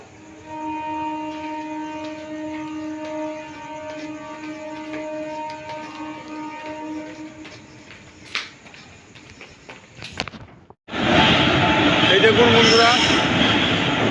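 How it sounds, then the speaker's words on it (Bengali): A train arriving at platform 2 of a station rumbles and hums with tonal engine drone, then a loud rushing burst near the end; a voice speaks briefly over it. "2 নম্বরের প্ল্যাটফর্মে এই ট্রেন এসে দাঁড়িয়ে গেছে।"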